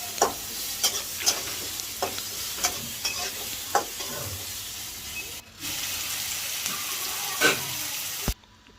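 Canned tuna cooks in a pan, with a steady sizzle under repeated close scraping strokes of a stirring spoon, the frying growing louder near the end before cutting off abruptly.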